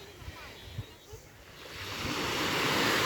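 Pacific Ocean surf breaking on a Sakhalin beach in June, a soft steady wash that builds louder toward the end, with a few faint low thumps early on.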